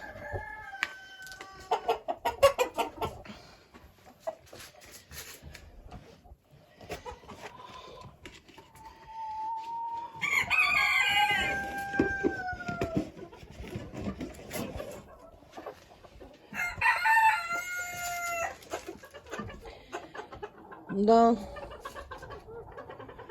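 In a coop, hens including a white naked-neck cluck and cackle on and off while a rooster crows loudly several times, with a person talking intermittently among the birds.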